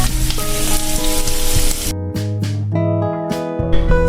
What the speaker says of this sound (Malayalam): ചട്ടി ചൂടായ ശേഷം വെളിച്ചെണ്ണ ഒഴിച്ച് ചൂടായ ശേഷം അതിലേക്ക് അരിഞ്ഞു വെച്ചിട്ടുള്ള സവാള ചേർത്ത് കൊടുക്കാം